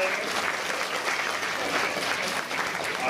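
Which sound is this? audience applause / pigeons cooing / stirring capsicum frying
audience applause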